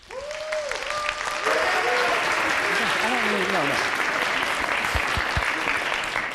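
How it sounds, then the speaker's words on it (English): Conference attendees at DevConf CZ applaud as a speaker takes the stage, the clapping swelling into a full, even wash after a brief tonal sound and lasting throughout, with a voice speaking over it. "Save the applause for the end,"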